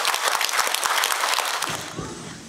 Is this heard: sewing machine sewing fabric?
no